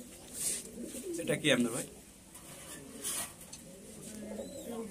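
Pigeons of many breeds coo in a loft, low murmuring coos rising and falling under a voice asking a question, with some bright clatter and chirps in the background.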